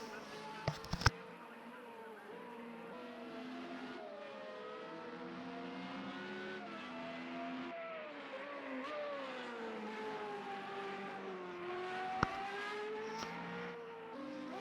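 Several Formula Renault race cars lapping the Brno circuit during practice in a racing video game, their engines droning and shifting pitch steadily throughout, with a couple of sharp clicks near the start and around twelve seconds.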